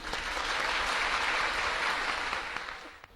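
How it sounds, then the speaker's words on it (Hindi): A crowd applauds to welcome a guest onto the stage, a dense, even burst of clapping that holds steady and then begins to fade. "तालियों से स्वागत"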